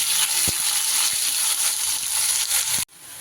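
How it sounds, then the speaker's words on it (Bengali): Potato pieces frying in hot oil until browned, a steady broadband sizzle with a few soft knocks of a utensil, close and loud, cutting off abruptly near the end. "সুন্দর করে আলুটা একদম লাল করে আমি ভেজে নেব"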